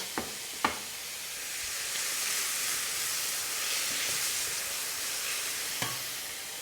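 Onions and meatballs sizzle steadily in a hot pan, a continuous broadband hiss with a few sharp clinks of a utensil against the pan, no voices.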